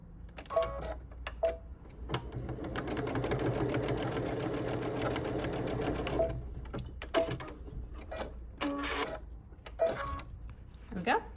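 Sewing machine stitching quilted mug rug blocks, a steady fast mechanical whir running for several seconds, framed by short stop-start bursts, with someone talking throughout.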